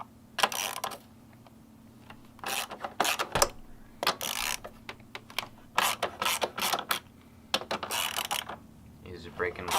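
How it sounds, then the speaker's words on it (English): Ratcheting wrench with a 12mm socket loosening the fender bolts on a Honda Grom motorcycle, heard as bursts of close clicking ratchet strokes separated by brief pauses. "there's 4 bolts you're going to remove, and this is with the 12mm."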